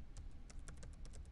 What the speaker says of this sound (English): we are going to type in